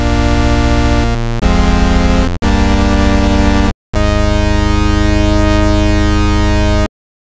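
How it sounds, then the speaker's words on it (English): A synthesizer patch plays with a smooth sine-wave sub-oscillator under it. Sustained steady tones hold at a loud level, the pitch shifts a few times, and short gaps break the sound before it cuts off. "Now you can change the waveform with this sub if you want it to be a little smoother. That's a sine wave."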